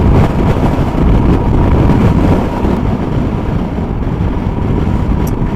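Strong wind gusts across a mountain pass, a loud, rough roar buffeting the microphone continuously with no voices over it.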